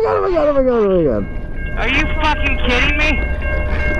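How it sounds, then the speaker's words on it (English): A train rolls past on nearby tracks, a steady low rumble with passing clatter under loud, excited speech from people watching. "Oh look, there's a train."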